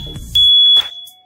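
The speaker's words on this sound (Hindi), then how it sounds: "ये बजेगा अभी" A homemade electric doorbell buzzer sounds one loud, steady high-pitched electronic tone for about half a second, close up, with faint handling noise before and after.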